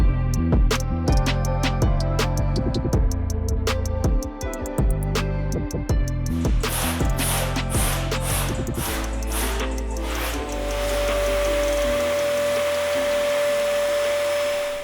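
A vacuum cleaner drones loudly while foam dust is cleared off a Porsche 981 headliner, its steady whine shifting pitch and texture as the nozzle moves and catches debris.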